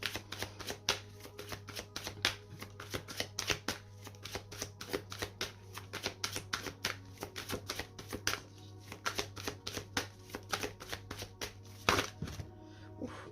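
Oracle cards shuffled by hand, a steady close run of rapid papery riffles and flicks lasting many seconds without pause, with no talking.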